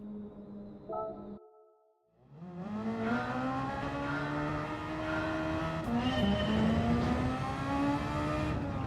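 Toyota race car in Gran Turismo 7, engine idling with a short blip, a brief pause, then a loud sustained acceleration with rising pitch and a gear shift midway, close and continuous.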